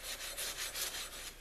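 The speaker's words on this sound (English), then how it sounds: "Give it a good scrub over." Steady back-and-forth scrubbing of a forged steel garden tool blade, working rust off down to bright bare metal; a continuous rasping rub with regular strokes, close and fairly quiet, with no voices.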